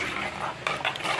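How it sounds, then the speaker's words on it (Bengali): A spoon stirs salted yogurt thinned with water in a bowl, giving close, quick clinks and scrapes against the sides over a soft steady background. "নুন দিয়ে একটা চামচ দিয়ে এটা ঘেঁটে দেবো।"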